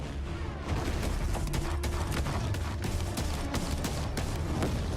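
Dense, continuous gunfire from the Battlefield 1 campaign, with rapid overlapping shots and booms at constant loud level after a quieter first moment.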